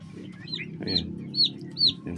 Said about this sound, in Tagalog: So pinakawalan ko na rin pala yung mga sisiyo natin.